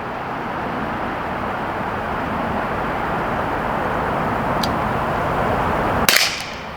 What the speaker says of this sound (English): I've already put 10 magazines through this when I was at the indoor range, but let's take some shots out here.